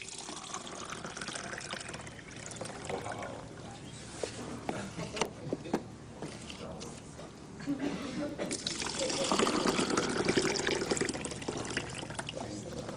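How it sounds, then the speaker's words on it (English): Tap water runs steadily while fruits and vegetables are rinsed at a sink, swelling louder toward the end, with a voice talking over the splashing. "I want to show you what happens if you clean your fruits and vegetables in that water."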